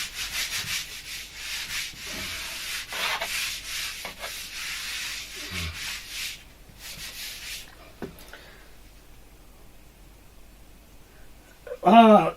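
Board eraser rubbing out writing on a classroom board, a steady scratchy rubbing that runs for several seconds, then fades, followed by a brief louder sound near the end.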